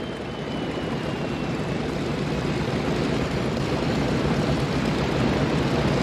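An Airbus A320 airliner, a type first built in the mid-1980s, drones steadily in flight, a loud, continuous, broadband roar with no breaks and no voices.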